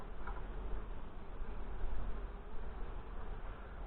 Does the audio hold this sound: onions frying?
no